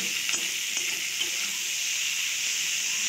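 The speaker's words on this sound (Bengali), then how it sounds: "এখানে আলু পটল দিয়ে মাছের ঝোল হচ্ছে।" Fish curry with potato and pointed gourd sizzles and bubbles steadily in hot oil in a pan, a close, continuous frying hiss with faint stirring knocks.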